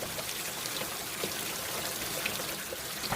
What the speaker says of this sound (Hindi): बस किसी तरह से पहले ये बारिश रुक जाए